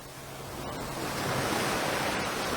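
Sea waves wash steadily onto the west coast at Fitts Village, a continuous broad rushing surf that swells slightly louder as it goes on, with no voices.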